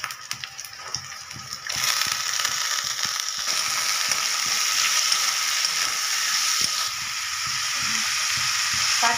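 Chopped potatoes drop into a pan of reddish-fried onions, and a loud sizzle rises at once and holds steady, close up, with scattered stirring clicks and no voices.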